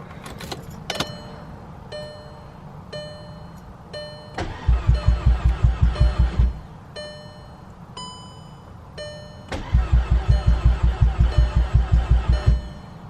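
A Volkswagen Golf R MK6 engine cranks over on a start attempt in two long bursts of rapid, loud rhythmic turning, with a chiming warning tone and clicks between them, and no speech.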